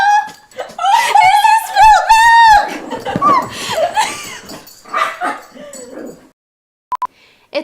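Several dogs yip, whine and bark loudly and close by, with high excited cries in a dense cluster before they trail off into a few short yelps.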